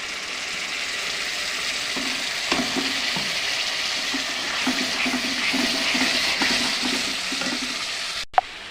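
Tomato and ginger paste fries with onions for an Andhra-style mushroom curry, making a steady, even hiss of sizzling oil close by with faint stirring, then ending on a sharp click.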